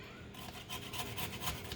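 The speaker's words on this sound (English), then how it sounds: "I'm just going to use my little bitty tiny grater." Peeled garlic cloves rubbed against a small handheld kitchen grater, a close rhythmic rasping of repeated short strokes that runs steadily and alone.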